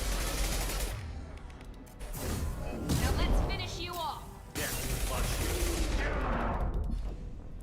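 Mass Effect 2 gameplay with heavy single-shot gunfire: sharp, loud blasts and mechanical clanks over dense game noise, with people talking throughout.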